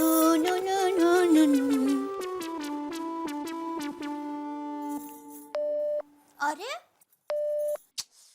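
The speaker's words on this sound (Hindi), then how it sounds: "घर का फोन बिजी आ रहा है" A home telephone line gives a busy signal, a series of short, regular beeping tones that start under a voice and then continue alone, ending in a few separate steady tones.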